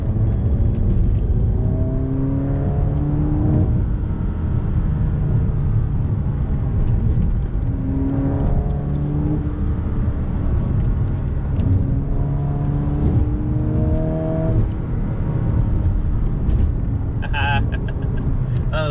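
A car engine revs and pulls through rising gear changes, droning steadily under someone talking throughout.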